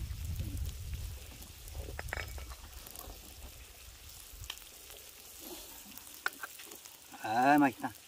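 Food sizzles on a hot clay-stone griddle in an outdoor yard, a soft steady frying crackle at close range with a few clinks of utensils, ending in a brief rising whine.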